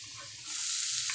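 Chopped onion dropped into a pan of hot oil where garlic and ginger are browning, giving a steady bright sizzle that swells as the onion goes in; no voices.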